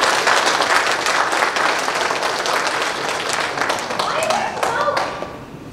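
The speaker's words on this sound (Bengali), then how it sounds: "আসুন আমরা একটি করতালি দেই।" An audience applauds at a church honoring ceremony for a long-serving reverend, with dense, sustained clapping close by that fades slightly toward the end.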